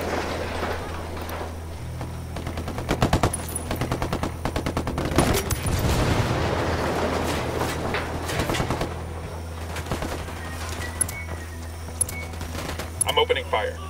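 Video game gunfire: loud rapid bursts of shots and cracks over a steady low engine-like rumble, with sporadic single shots continuing after the main volley.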